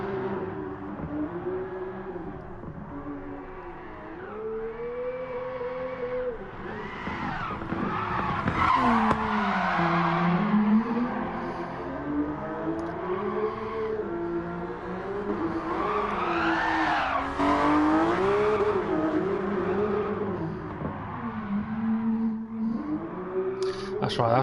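Race car drifting around the Red Bull Ring in Gran Turismo Sport, a steady engine drone with wavering pitch and continuous tire squeal and skidding, loud and close throughout, with someone talking over it.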